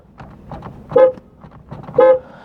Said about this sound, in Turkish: Kornumuzu da duyun.